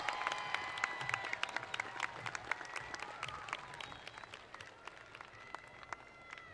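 A large crowd applauds graduates at the Tift County High School 2025 graduation ceremony: dense, steady clapping with sharp individual claps and a few cheers or whistles, sustained evenly throughout.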